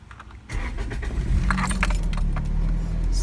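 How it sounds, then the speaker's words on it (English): Keys jingle as a key turns in the ignition of a manual car in a parking lot, then the engine cranks and catches into a steady low idle rumble, close and continuous. "So there you've started your car."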